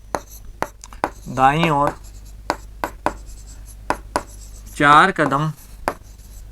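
Marker or pen taps and short strokes during a Class 6 maths lesson on integers, close and sparse, while a teacher speaks in between.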